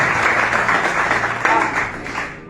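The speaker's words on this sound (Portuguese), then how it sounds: "Aplauda o Senhor." A church congregation at a family service applauds together, a dense, loud, continuous clapping that tapers slightly toward the end.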